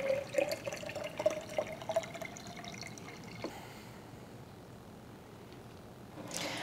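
Water pours and trickles into the soil of a potted plant during a thorough soak, with dripping and a thin running stream early on, then a quieter wash of draining water nearby.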